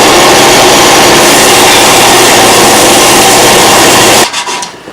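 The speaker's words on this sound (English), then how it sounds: "we'll clean those babies up on the belt" Belt sander grinding down fairlead parts, a loud, steady broadband rasp that runs continuously and then cuts off abruptly near the end, leaving a quieter tail.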